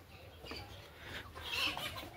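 Golden Misri hens on a poultry farm cluck softly in a steady, low murmur of scattered calls, with a few brighter clucks rising near the end and no voices in the background.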